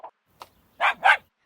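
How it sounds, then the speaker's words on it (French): A farm dog gives two small, quick yips followed by two louder, close barks in a short run, alone with no other sound. "Un chien."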